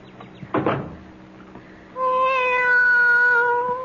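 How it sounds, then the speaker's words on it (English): A cat meows several times in a quiet indoor scene, a short bump or thunk first, then a loud, sustained, wavering meow close by that lasts to the end. "Be quiet, cat."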